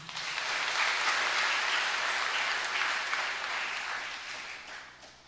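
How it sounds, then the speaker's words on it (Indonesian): A congregation at a cathedral Mass claps in sustained applause, a dense wash of hand claps that stays strong and then gradually fades toward the end. "Tepuk tangan dulu untuk kita."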